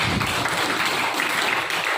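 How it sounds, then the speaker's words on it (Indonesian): Students in a classroom applaud after their physics practical presentations, producing brief, even clapping at moderate volume. "Tepuk tangan untuk kalian semuanya"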